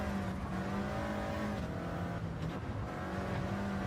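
Mercedes-Benz AMG race car engine in Gran Turismo 7 roaring steadily at high revs, a dense continuous drone with shifting pitch as the car accelerates around the Nürburgring, loud and unbroken throughout.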